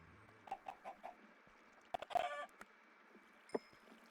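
Chickens clucking in a Minecraft modpack game, a few short scattered clucks and squawks at close range, faint and separated by quiet gaps.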